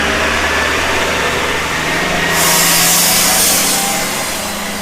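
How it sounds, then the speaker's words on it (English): A loud garbage truck passes nearby with a heavy, steady engine rumble and a harsh mechanical roar that swells midway through, with no voices. "It's a loud garbage truck."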